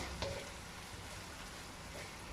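Quiet, even sizzling of broccoli frying in a pan with light soy sauce before ramen noodles go in, a soft continuous crackle with no voices.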